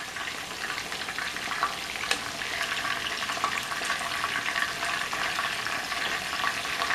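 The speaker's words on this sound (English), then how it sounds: "in between frying the next batch, y'all, I like to let this heat back up good" Continuous crackling sizzle of food frying in hot oil, steady and close, with occasional sharper pops.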